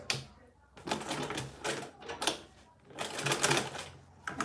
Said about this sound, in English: So I'll back stitch.